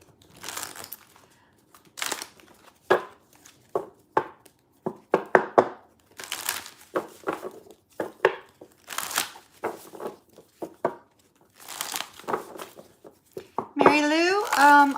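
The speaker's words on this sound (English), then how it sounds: "Mary Lou, I am shuffling the cards" Tarot cards being shuffled by hand in short bursts of crisp riffling and slapping, with irregular pauses between, close up and fairly quiet, ending in a denser flurry of card noise.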